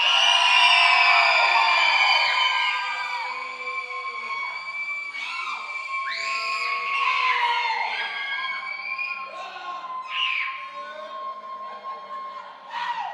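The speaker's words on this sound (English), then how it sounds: "on the count of 3, just yell and scream, please" An audience at a live event yells and screams together on cue, a loud sustained mix of high shrieks and shouts that rises and falls for several seconds.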